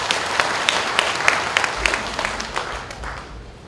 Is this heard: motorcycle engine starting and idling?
no